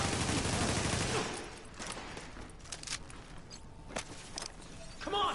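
Gunfire in The Division video game bursts heavily at first, then breaks into scattered shots and clatter in a busy firefight. A voice may be faintly present beneath.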